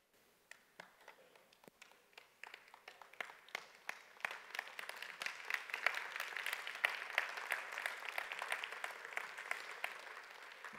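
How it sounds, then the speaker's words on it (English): A church congregation claps during a Sunday morning service, starting with scattered, sparse claps and swelling into fuller, steady applause that grows louder, all fairly distant with no talking over it. "This may be the only crowd in the Durham region this morning that is clapping for our own death"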